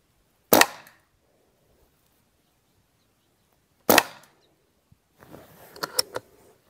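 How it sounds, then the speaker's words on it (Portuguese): A Rossi Outlander carbine fires a flat-base slug: two sharp, loud gunshots about three seconds apart, each with a short fading tail, followed by faint clicks and handling noises near the end. "Primeiro disparo, vamos tentar lá no alvo de cima."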